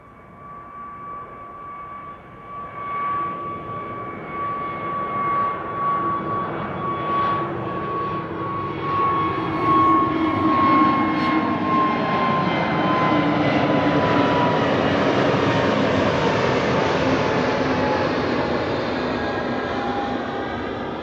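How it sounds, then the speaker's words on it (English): EasyJet Airbus A320neo jet departing Amsterdam Schiphol Airport: a loud, steady engine roar builds over about twenty seconds, with a whining tone above and a slowly shifting rumble, and no voices. "EasyJet, flight 2516. It's an A320neo."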